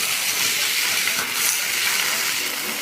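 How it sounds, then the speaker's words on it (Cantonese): Lamb hitting hot oil in a wok and searing, a loud, dense, continuous hiss of frying that stays steady and close throughout. "落油啦，跟住倒埋啲羊肉落去，輕輕煎煎佢"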